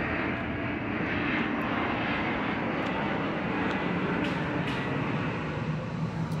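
An airplane flies overhead, a loud, steady broadband roar that fills the whole stretch without easing, with no voices over it.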